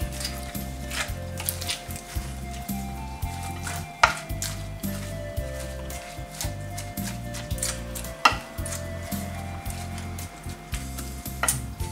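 A spoon stirs cabbage curry with salt, fenugreek and water in a pot, giving soft scraping and clinking strokes over a steady simmering sizzle and a low background hum, with no talking.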